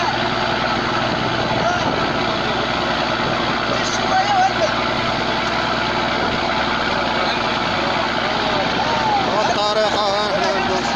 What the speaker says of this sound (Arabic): الموتور خدام كيشوت الصداع